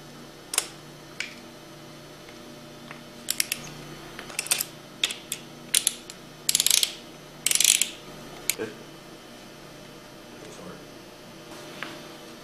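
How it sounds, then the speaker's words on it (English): A torque wrench ratchets while tightening the bolts on a Hypro 2535S triplex plunger pump to 40 foot-pounds. Short bursts of crisp, close clicking come in separate runs with pauses between them, against a faint background hum. "Torque the bolts to 40 foot-pounds."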